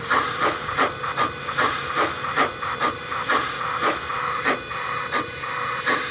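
A model steam locomotive chuffs, with steady rhythmic bursts of hissy steam-like noise repeating at a quick, even pace over a continuous background hiss, close and moderately loud with no talking.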